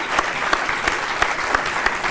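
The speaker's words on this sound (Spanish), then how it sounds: "Lo podemos aplaudir a este, por favor." A small audience claps steadily and continuously, a dense patter of hands with no voices on top.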